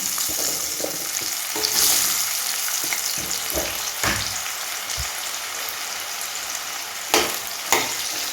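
Cut mango pieces frying in hot oil, a steady loud sizzle with scattered crackles and a few sharp clinks of stirring, no talk.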